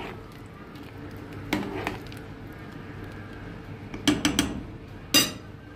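A spoon stirs white bean stew mixed with mashed potatoes in a pot, giving a few scattered clinks and soft squishy scrapes against a quiet background. Nobody speaks.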